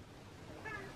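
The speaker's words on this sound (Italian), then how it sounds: "La gatta Stellina poi come dorme?" A pet cat at home gives a brief, faint meow over steady background hiss.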